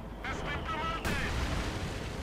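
A Panzer IV tank explodes in the strategy game Company of Heroes 2: a heavy blast rumbles under ongoing battle noise, with a sharp burst about a second in. A commentator talks over it.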